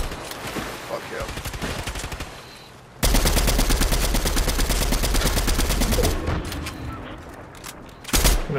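Rapid automatic gunfire from a video game shooter rattles loudly in a sustained burst, preceded by scattered shots and followed by another short volley, with a player's voice in the mix.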